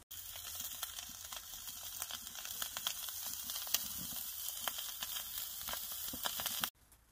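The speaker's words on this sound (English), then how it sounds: "that burger is just starting to sear nicely" A wagyu burger patty sears in a hot pan with a steady, close sizzle and crackle that holds for several seconds, then cuts off abruptly near the end.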